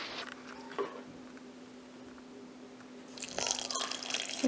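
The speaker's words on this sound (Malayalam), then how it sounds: "അപ്പോൾ ഞാൻ അതിലേക്ക് കുറച്ച് വെള്ളം ഒഴിക്കും." Water poured into a mixer jar holding soaked leftover rice, a brief close splash and trickle near the start and a louder pour toward the end, with a quiet hum between.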